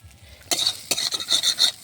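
Potato filling being sautéed with salt, roasted cumin powder and green chilli for potato chops, a spoon stirring and scraping the pan in bursts of rough, close scraping after a quiet start.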